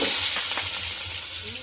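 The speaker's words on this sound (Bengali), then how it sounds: "আমাদের মাংস করার জন্য পেঁয়াজ দেওয়া হচ্ছে।" Onions fry in a pan for a meat curry at a night picnic, giving off a continuous, close, bright sizzling hiss.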